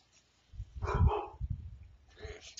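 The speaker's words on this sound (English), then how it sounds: "the dogs are fucking barking at nothing" Dogs bark outdoors in a short burst of several rough, mid-distance woofs, loud and uneven, followed by a fainter bark after a brief pause.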